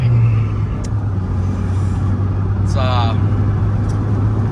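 A cheap, well-used Honda Civic drives along with a steady low engine and road rumble filling the cabin, a constant drone with a few faint higher squeaks on top.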